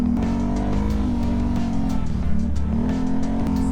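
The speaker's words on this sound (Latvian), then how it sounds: "Beigās izdomāju braukšu tomēr pats ar kvadriciklu." A Can-Am Renegade quad bike's engine is heard close up while riding along a trail, roaring loudly with revs that rise, dip and climb again in continuous throttle surges.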